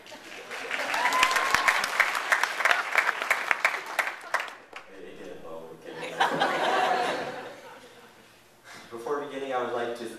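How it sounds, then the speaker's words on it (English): An audience at a 2012 high school graduation applauds steadily with scattered chuckles and laughter, then the clapping fades as voices and talk continue. "Cue applause."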